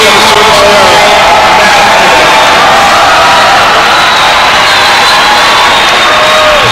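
A men's college volleyball crowd rises to its feet at game point, a loud, sustained roar of cheering and whooping that fills the gym, with an announcer talking over it.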